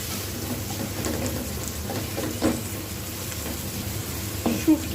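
Onions and dried chilies sizzle in hot oil for a dried fish and eggplant bhuna, a steady close frying hiss with a few soft stirring clicks and no talking.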